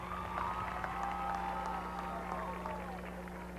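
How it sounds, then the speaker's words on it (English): Audience applause at the Southview high school commencement for the Class of 2002, a steady wash of clapping from a large seated crowd filling the hall throughout, with a faint constant hum underneath. "Let's give him another hand of applause, please."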